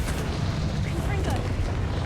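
A Confringo fire spell blasts during a Hogwarts Legacy fight, a dense rumbling explosion that fills the short moment with low boom and crackle while a voice speaks over it.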